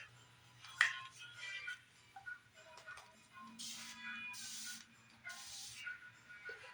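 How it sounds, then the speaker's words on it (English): Hair being spritzed with a spray bottle, heard as several short hissy bursts of mist in the second half, each lasting under a second, fairly close and soft, with faint background rustle and no talk. "I usually let it dry for a little while, and then I spritz it"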